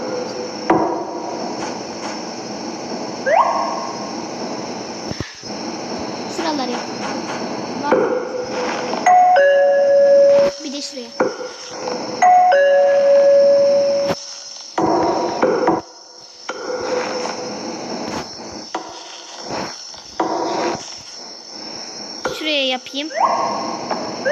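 Doorbell chimes in a Boku Boku treehouse-building video game, two short bright electronic ding-dong tones ringing over game sounds and hammering-like taps, while a child-like voice talks throughout.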